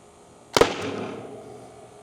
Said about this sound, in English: I'm going to shoot a little bit lower this time.